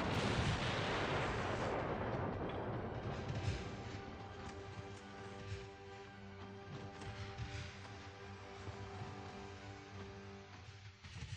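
Naval artillery in the Ultimate Admiral Dreadnoughts warship game: a heavy booming blast at the start rolls off into a long low rumble, with distant muffled thuds and dull impacts continuing under a steady battle din.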